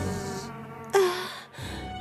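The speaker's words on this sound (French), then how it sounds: "Juste devant elle se tenait une reine des abeilles immense" A giant queen bee in an animated cartoon buzzes with a steady insect drone, swelling to a sharper, louder burst midway before settling back into a continuous hum.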